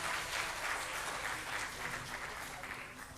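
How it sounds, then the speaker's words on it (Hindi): An audience at a women's leadership event welcomes a guest with applause, a continuous wash of clapping that sounds faint and distant. "बहुत ज़ोरदार तालियों से इनका अभिनंदन करते हैं"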